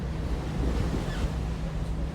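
Sea waves near Sochi heard from a boat trip: a constant rushing wash of surf with low wind rumble on the microphone, steady and loud for a couple of seconds.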